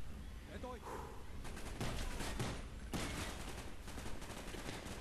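Dense gunfire crackles through a Call of Duty Black Ops battle as a steady, loud fusillade with overlapping shots, while voices can be heard underneath.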